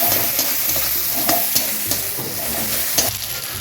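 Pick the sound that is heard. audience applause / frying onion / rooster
frying onion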